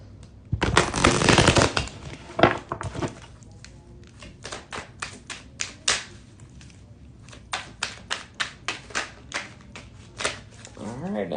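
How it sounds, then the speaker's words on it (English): A deck of tarot-style cards shuffled for a reading: a loud riffling burst up close, then a long run of rhythmic tapping and slapping as the cards are mixed by hand, with a voice briefly heard. "Mix this up real good. Make sure we're not getting no duplicate cards."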